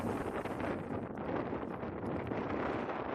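Wind blowing outdoors at a JV baseball game, a steady close buffeting rush of wind noise across the microphone throughout, with no voices.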